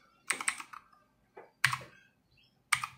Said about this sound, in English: I'm typing with one hand because I'm holding the camera with the other